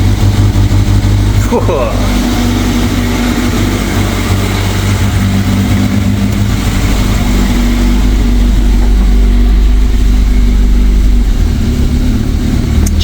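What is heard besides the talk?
car engine running after starting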